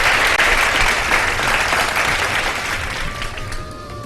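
A studio audience at a Ramadan iftar TV show claps loudly and continuously, a dense wash of applause that eases slightly toward the end.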